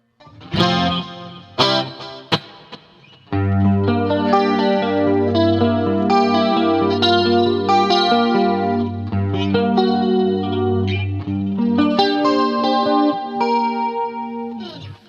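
Clean electric guitar through a Boss GT-8 with plate reverb, playing sustained chords and picked notes with a soft, roomy reverb tail, steady and fairly loud, no voices.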